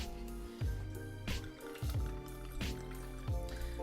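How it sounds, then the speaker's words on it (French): Vodka poured into a glass while making a Bloody Mary cocktail, a faint series of gurgling splashes and drips in uneven bursts, close and quiet with no talking. "on va renverser 4 centilitres de vodka"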